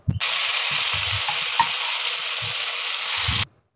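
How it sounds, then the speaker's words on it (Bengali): Taro leaves dropped into a hot pan of browned onion and garlic give a sudden loud, steady sizzle that runs about three seconds and then cuts off, with a few low thumps of stirring beneath it. "এবার আমি এখানে দিয়ে দেব কচু শাকগুলো।"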